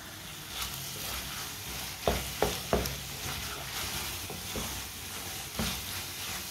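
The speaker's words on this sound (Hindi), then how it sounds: "आप इसे 2 मिनट के लिए अच्छी तरह मिक्स कर लेंगे।" A spoon stirs Punjabi-style turnip curry in a pan on the stove, with a steady low sizzle and a few sharp scraping knocks near the middle and again toward the end.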